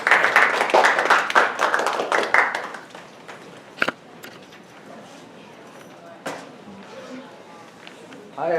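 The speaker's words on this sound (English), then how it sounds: "So if you guys want to give a little applause to Susan, we'll start our presentation." Audience at a talk on clinical research careers gives a short burst of applause that fades after a few seconds, followed by quieter room sounds and a few isolated taps.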